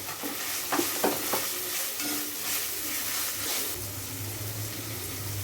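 Long-cut carrot slices are stir-fried in a hot pan, a steady close sizzle broken by several spatula scrapes and clatters early on, then a smoother hiss with a low hum toward the end.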